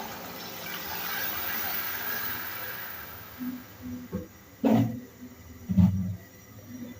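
Water poured from a glass into a pot of green chickpea pulao with potatoes, a soft rushing pour that swells and tapers, followed by a few louder splashes and clunks near the end.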